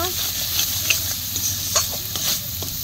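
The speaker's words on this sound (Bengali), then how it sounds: "সব কিছু মশলা আবারই ভালো করে মিক্স করে নিব" Spices being stirred in a hot pan for a thin rui fish and kochu curry, a steady scraping stir over continuous sizzling and frying, close and fairly loud with no talk.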